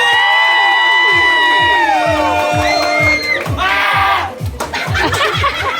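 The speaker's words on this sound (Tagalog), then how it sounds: "Parinig po ng malakas na palakpakan na may kasamang hiyawan!" A team's crowd at a live event cheers and shouts loudly over steady, rhythmic clapping, with high yells and whoops rising and falling close by throughout.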